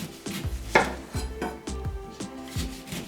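A knife chops lemons on a cutting board for Tunisian lemonade, with five or six firm, evenly spaced thuds and clicks, close and clear, with no talk.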